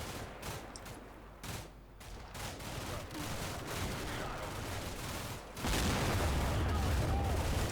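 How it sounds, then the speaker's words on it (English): Mortar and artillery fire in the war game Combat Mission Shock Force 2, a dense rumbling barrage of distant bursts and thuds that swells louder near the end. "Spotting round from the mortars."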